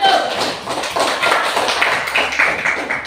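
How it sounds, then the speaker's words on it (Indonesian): A classroom of students applauds group 1, with dense, fairly loud clapping that runs steadily throughout, close and continuous. "Kita berikan aplaus untuk kelompok 1"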